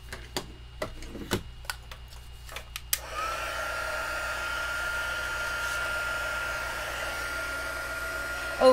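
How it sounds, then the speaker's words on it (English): A heat tool for card making starts up after several sharp ticks and clicks, then blows a steady, loud whooshing airflow that holds evenly to the end. "before you turn your heat tool on"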